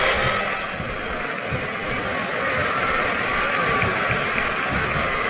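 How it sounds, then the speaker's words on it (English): A wrestling video game crowd in WWE SmackDown vs Raw 2008 roars continuously in a dense, steady wash of cheering and applause-like noise, loud and unbroken throughout with no distinct voices standing out. "I think these superstars are getting some feedback from the crowd, JR."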